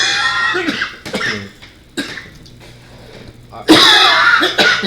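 Someone coughs repeatedly during a tabletop fantasy role-playing session: several harsh throaty coughs and throat clears in uneven bursts, close to the microphone, with quieter gaps between and a louder rasping fit near the end.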